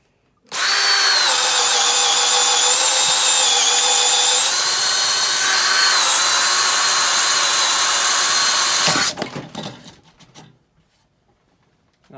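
A brushed power tool motor runs on speed 1, starting abruptly with a loud, steady high-pitched whine that holds for about nine seconds before spinning down and fading out.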